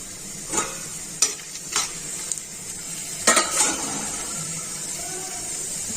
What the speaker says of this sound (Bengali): আমি তেল দিয়ে দিয়েছি, এবার আমি দিয়ে দেবো এখানে ছোট এলাচ আর দারচিনি ফোড়ন